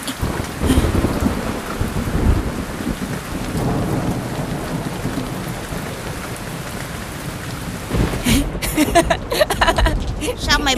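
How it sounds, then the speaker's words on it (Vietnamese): A thunderstorm roars in a 3D animated Vietnamese folk tale, with dense, loud rain and heavy rumbling thunder throughout and a sharper crackling burst near the end. "Mày đứng đó sẽ bị sét đánh đó."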